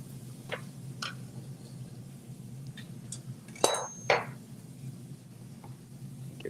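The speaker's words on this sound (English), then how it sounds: "Give that a good mix." A spoon stirs a bowl holding smoked cheddar and green onions, making faint scattered clinks and taps against the dish over a quiet room hum, with one louder scrape near the middle.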